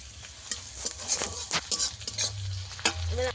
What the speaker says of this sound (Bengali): পেঁয়াজটাকে ভালো করে লাল করে ভেজে নেব।